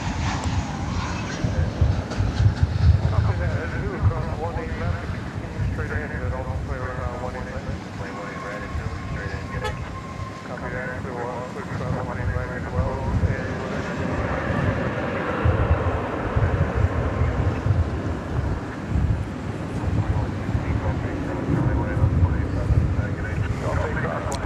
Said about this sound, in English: This one, however, a 737-800.